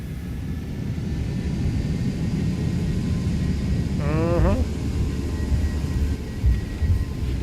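Airbus A319 jet engines spool to takeoff thrust in X-Plane 12, a loud steady roar that fills the whole stretch, with a brief rising tonal sweep partway through.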